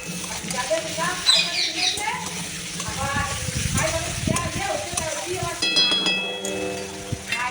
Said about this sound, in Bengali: রসুনটা আগে ভালো করে একটু ভেজে নিলাম রসুনের কাঁচা গন্ধটা যাতে না থাকে